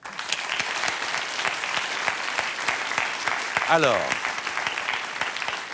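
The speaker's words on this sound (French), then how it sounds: "On vous applaudit" Sustained studio audience applause during a French game show, steady and dense for several seconds, with a voice speaking briefly over it and a short rising tonal sweep near the end.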